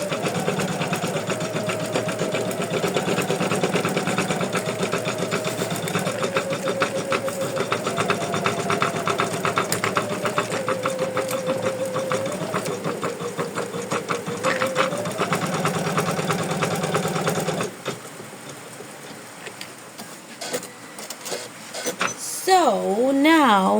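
An embroidery machine stitches stem stitches on an in-the-hoop cozy house ornament, a fast steady mechanical whirr and needle clatter up close that stops near the end, with a voice talking over it.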